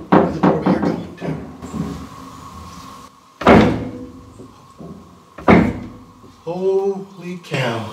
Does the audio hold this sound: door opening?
yes